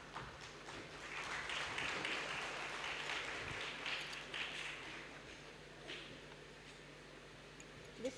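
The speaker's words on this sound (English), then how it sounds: "A little louder applause would be most welcome." Scattered applause at an awards ceremony in Kolkata: a thin, steady patter of claps from a modest audience that continues for several seconds at a moderate distance, tapering unevenly with a few louder claps at the end.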